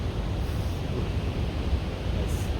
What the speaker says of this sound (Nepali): यहाँको पछाडि बाटो तल कमर खोला छ कस्तो खतरा खोला छ